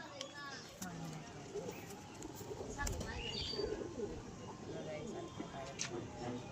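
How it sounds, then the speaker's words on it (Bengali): A male pigeon coos in a rooftop loft, soft repeated calls under a steady background of other birds and continuous chatter and talk nearby. "এটা একটা নর পায়রা"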